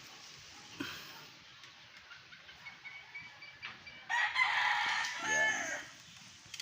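A bloodline fighting rooster crows once, loud and drawn out, near the end after a stretch of quieter clucking and rustling; someone speaks briefly.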